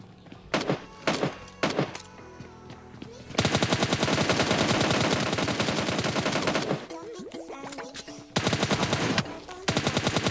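Rapid bursts of gunfire from PUBG Mobile Lite, a player shooting down an enemy who arrives on a buggy: loud automatic volleys in several stretches, one long sustained burst in the middle, separated by short pauses.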